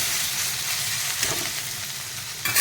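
Mango pieces with their seeds frying with cumin in oil for mango pickle, a dense continuous sizzle close up with a faint stir and a louder burst at the end, no talk.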